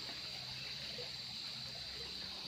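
Muddy, rain-swollen creek water flows steadily past a riprap bank on a farm lot in Magdalena, Laguna, making a continuous soft rushing hiss with no voices over it.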